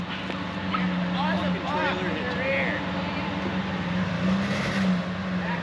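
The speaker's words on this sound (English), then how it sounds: "Because both your back tires are spinning." The back tires of a Jeep TJ spin as the engine drones with a steady, loud roar, while people talk over it throughout.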